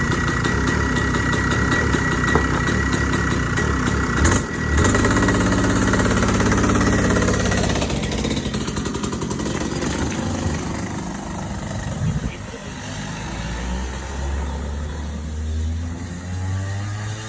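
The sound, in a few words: fast go kart engine running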